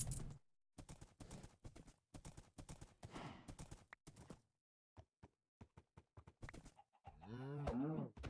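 A horse in the Minecraft video game clip-clops in quick rhythmic bursts through most of the stretch, close and fairly loud, before a harmonic, whinny-like call rises near the end.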